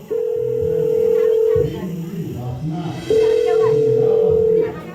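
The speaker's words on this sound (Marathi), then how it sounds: "थांब त्या सूरजला फोन लावतो" Two long steady electronic phone tones, each about a second and a half, with a person talking underneath and between them.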